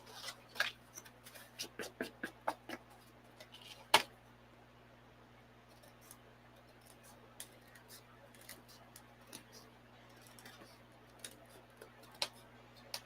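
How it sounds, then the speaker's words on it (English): Scissors cutting Ultra Suede in a quiet workshop, a series of sharp, faint snips and clicks in irregular bursts over a low steady hum, with a louder snap near the middle. "Maybe I'll just cut it with scissors."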